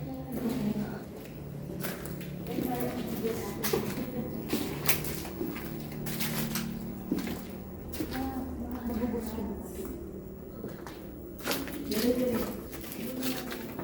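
Soft cooing of pigeons or doves repeats through the recording inside an abandoned morgue, with people talking quietly nearby and occasional knocks and bumps.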